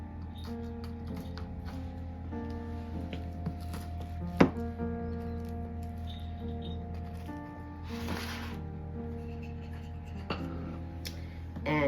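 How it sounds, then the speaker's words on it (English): A sharp spatula cutting ooey gooey butter cake into bars in a baking pan gives soft repeated scrapes and taps against the pan, a few sharper knocks standing out, close and quiet over a steady kitchen hum. "Take our nice sharp spatula And we're going to cut these into bars."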